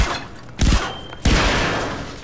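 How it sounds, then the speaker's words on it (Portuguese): Two muffled, thudding shots from a silenced gun in Far Cry 4 fire about half a second apart, each followed by a lingering rumble over constant background noise. "Vamos fazer na base do tiro, então. Só que eu vou usar uma arma com silenciador"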